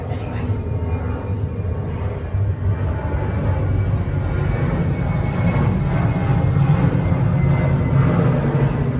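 An airplane flies overhead, its engines making a loud, steady drone that holds evenly from start to finish and swells slightly toward the end.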